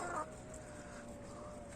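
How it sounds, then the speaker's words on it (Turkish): Village chickens in a Denizli coop cluck briefly near the start, then give way to a faint, steady farmyard background with no voices. "Köy tavuklarımız bunlar."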